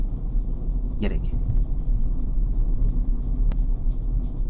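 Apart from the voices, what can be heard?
car reversing using only clutch and brake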